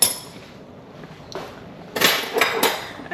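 A spoon taken out in a kitchen, with a few short metallic clinks and rattles of cutlery and pans close by in a quiet room, grouped near the end.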